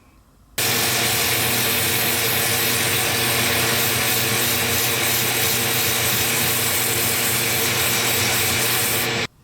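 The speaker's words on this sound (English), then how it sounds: "I'm going to finish this off as far as I can with sanding and finishing" Sandpaper rubbed against a wooden plumb bob spinning on a lathe gives a loud, continuous hiss with a steady motor hum underneath, starting abruptly and stopping just before the end, with no talking.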